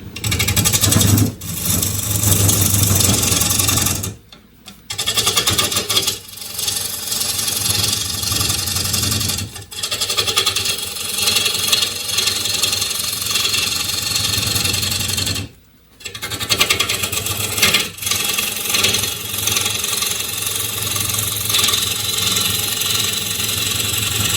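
A bowl profiling gouge cuts a thin green elm bowl spinning on a wood lathe, giving a steady loud rasping drone with brief pauses as the tool lifts off, no talking.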